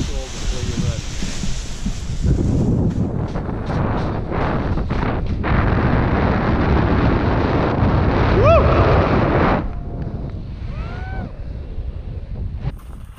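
Strong wind roars and buffets the microphone during a paragliding launch outdoors, loud and continuous before easing off toward the end, with faint brief voices underneath.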